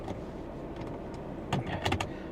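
The rear power window of a Mazda 3 hums briefly as its motor runs, a soft whirring with a few clicks and thumps at the end, heard faintly inside the parked car without talk.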